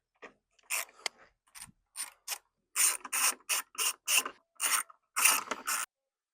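Ratchet wrench loosening T30 bolts on a Passat B5.5 headlight, a run of quick metallic clicking bursts close up, repeated in short strokes with brief pauses between, no talking.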